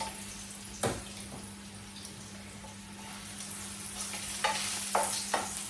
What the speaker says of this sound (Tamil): இப்போ கருவேப்பிலை பொறிபட்டு இதையும் வந்து இந்த பொரிச்செடுத்த வெங்காயம் பொரிச்செடுத்த டிஷ்ஷில் இந்த கருமிளகாயும் போடுவோம்